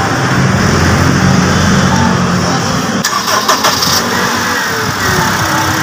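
A Honda Civic FD engine with an alternator problem cranks over and catches at the midpoint, followed by a steady idle over a continuous rumbling background.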